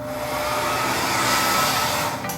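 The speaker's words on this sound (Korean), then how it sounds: "헤어드라이기를" A hair dryer blows steadily on wet hair during men's hair styling, a loud continuous whooshing roar that runs unbroken and close by, with no voices over it.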